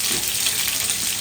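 Onions, garlic and green chillies fry in a pan, giving a loud, dense, continuous sizzle heard up close.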